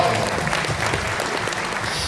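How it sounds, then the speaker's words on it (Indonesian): An audience at a faith talk evening applauds Romo Otto with steady, moderately loud clapping that fills the whole short stretch. "tepuk tangan untuk Romo Otto."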